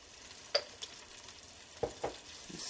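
A cooking pot with ground cumin added is stirred over sizzling heat, with a few soft scraping strokes and faint frying in the background, no talk.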